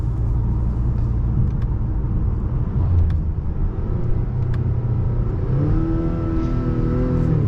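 2022 Acura TLX with the 2.0 turbo accelerating from the cabin, a steady loud engine drone that climbs in pitch toward the end as revs build.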